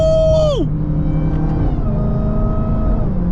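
A Dodge Hellcat Charger's supercharger whine sweeps high and drops sharply as the throttle lifts, then a lower engine drone and fainter whine settle in, heard loud from inside the car.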